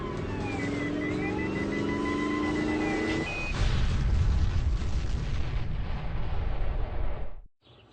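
In a video game, a landmine blows up a vehicle at the Starship City perimeter: a tonal engine drone gives way to a loud, roaring blast that rumbles for several seconds before cutting off.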